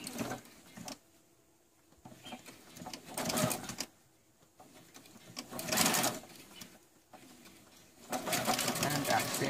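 A sewing machine stitches a seam on a garment in three separate bursts of fast, buzzing needle chatter, close and clear, with quieter pauses between runs.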